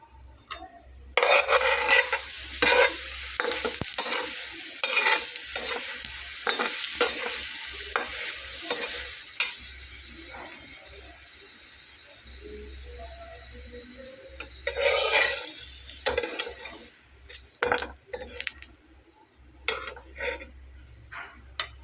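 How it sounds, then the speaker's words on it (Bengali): Bengali-style potato snack pieces frying in a pan with a little oil, turned repeatedly with a spatula; steady close sizzle broken by scraping and clinking strokes, with a brief pause mid-way before stirring resumes. "তো এটাকে খুব ভালো করে এই জন্য সেঁকে নেব যাতে এটা কাঁচা না থাকে"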